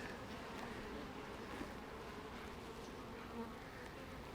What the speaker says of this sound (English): There's just a few bees out there.